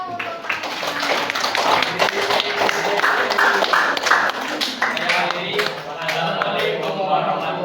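A group in a classroom claps hands after finishing an experiment, a steady patter of many overlapping claps close by, with chatter and voices mixed in throughout.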